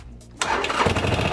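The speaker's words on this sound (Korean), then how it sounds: "자, 이제 시동을 걸어 봐야 되겠죠." A Harley-Davidson motorcycle engine, just fitted with a new battery, cranks and catches after a short quiet lead-in, then runs as a loud, steady, rumbling idle close by.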